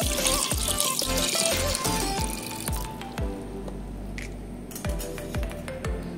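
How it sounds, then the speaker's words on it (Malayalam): Water pours steadily into a metal pressure cooker, a continuous gushing and filling sound with a rising pitch, heard alone and fairly close. "ആവശ്യത്തിന് വെള്ളം ഒഴിച്ചു കൊടുക്കാം."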